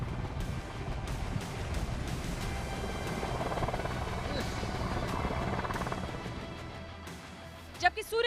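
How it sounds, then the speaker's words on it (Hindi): Five Sarang team helicopters fly over the Jaipur air show after taking off from Nahargarh base, their rotor roar loud and continuous amid busy crowd and event noise, with a few sharp knocks near the end. "सारंग टीम के 5 हेलीकॉप्टर्स ने नाहरगढ़ बेस से उड़ान भरी"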